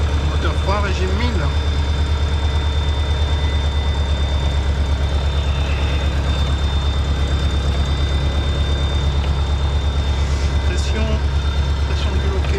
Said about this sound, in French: Moteur froid, régime 1000.